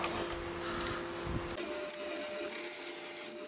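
A metal lathe machining stock for a homemade rotary table runs with a steady mechanical whine and cutting noise, a tone shifting partway through, close and continuous without speech.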